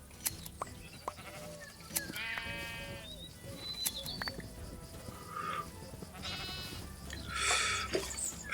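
Sheep in a farming video game bleat repeatedly, several wavering calls scattered across the scene over soft background ambience and small clicks.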